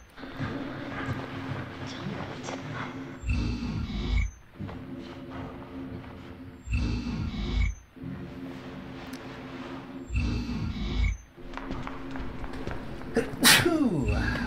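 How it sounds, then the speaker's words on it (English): A person with a cold sneezes in several bursts spread across the stretch, close to the microphone and fairly loud, between stretches of speech during play of the video game Deadly Premonition Origins. "Yes, sorry, I sneezed."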